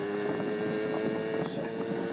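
Yamaha Towny MJ50 moped fitted with a Malossi top end kit and VM20 carburetor on a top-speed run, a steady high-revving two-stroke whine blended with heavy wind rush across the microphone, continuous and close.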